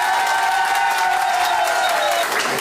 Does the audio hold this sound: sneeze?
no